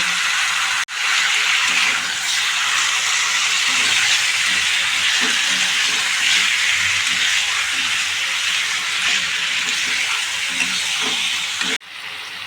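Tomatoes frying in a pan with turmeric and salt, a loud, steady close-up sizzle with little change throughout.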